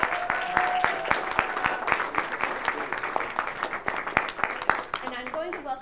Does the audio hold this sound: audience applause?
yes